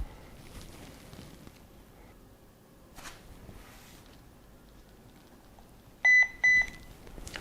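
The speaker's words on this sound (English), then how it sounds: "Then you hear the beep and you get the notification on the screen" Two short electronic beeps from a HeimVision HM202 WiFi security camera sound close together near the end, after several seconds of quiet room noise with faint rustles.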